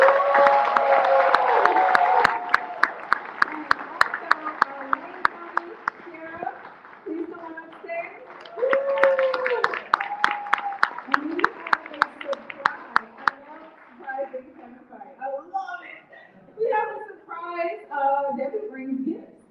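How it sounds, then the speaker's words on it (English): An audience at a Detroit City Chess Club award ceremony at the Detroit Institute of Arts breaks into applause and cheers. The loud clapping carries on under a speaker's voice, then tapers into scattered claps as talk resumes. "Give her a round of applause."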